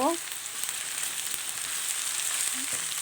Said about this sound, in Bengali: এখন এগুলাকে একটু ভেজে এর ভিতরে আমি চিকেনগুলা দিয়ে দিলাম